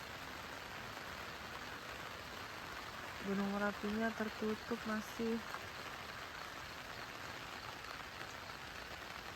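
Continuous patter of rain falling on surfaces at a hillside campsite at Wonolelo Hill Camp, Magelang, with a person speaking briefly over it partway through.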